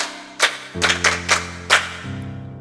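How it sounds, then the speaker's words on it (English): Several sharp bursts of clapping from a group of children ring out over a sustained tone that carries underneath, loud and close. "Can we clap for ourselves?"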